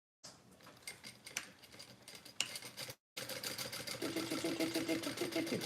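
A home sewing machine stitches a seam at a short stitch length with a 1/4 inch seam allowance. Quiet mechanical clatter gives way, after a brief pause, to steady, rapid stitching that runs to the end.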